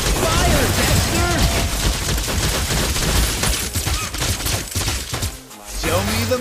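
Gunfire from Dexter, the machine companion of the hero Claude in Mobile Legends, comes in rapid loud bursts. It sits in a busy mix of game effects and music, dips briefly near the end and then picks up again.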